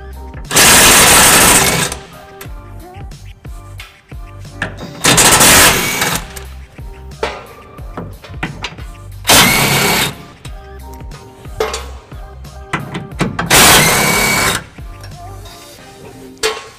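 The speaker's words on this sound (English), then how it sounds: "We'll be using our power tool right here to be taking those off." A power tool rattles loudly in four sharp bursts of a couple of seconds each, removing bolts from a 2009 Nissan Titan for a trailer hitch installation, with quieter clinking and handling sounds between them.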